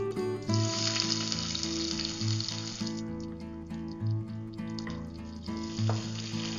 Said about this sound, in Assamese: পিঁয়াজখিনি দি অকণমান সময় পিঁয়াজখিনি ভাজি ল'ম।